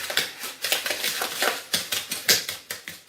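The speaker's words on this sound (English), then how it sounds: "Then 50 grams of butter. And we'll give that a mix." Sugar and room-temperature butter are mixed in a bowl for carrot muffins, making a close, steady rhythm of quick scraping taps with no voices.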